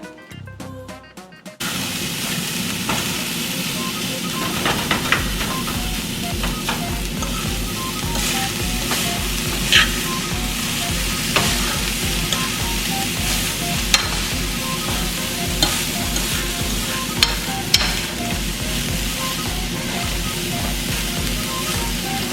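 Vegan spaghetti sauce sizzles loudly and steadily in a pan on a warmed stove eye, a dense crackling hiss with occasional sharper pops, starting abruptly after a brief quiet moment.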